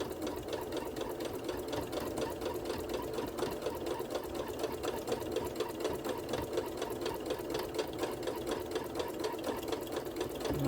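A sewing machine runs steadily, stitching through an oven mitt in one continuous, even mechanical hum with rapid needle strokes, close and loud, with no talking.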